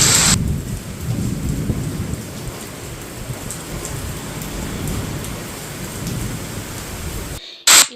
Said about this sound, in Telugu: ఇలా ఫుల్ రెయిన్ పడుతుందని